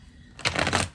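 A worn, well-used tarot deck is riffled once up close, a short burst of rapid flapping and clicking cards that rises sharply and then fades out.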